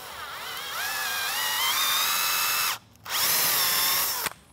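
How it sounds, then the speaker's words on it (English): A power drill boring out holes in 3D printed parts: a loud, steady high whine that briefly rises in pitch, stops for a moment, then runs again before cutting off. "so they all need to get drilled out."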